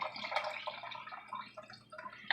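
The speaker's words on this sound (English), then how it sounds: "I'm gonna add some beef broth" Beef broth is poured into a pot, producing a soft, uneven splashing and trickling that runs in short bursts, fairly close and quiet.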